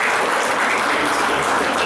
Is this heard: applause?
yes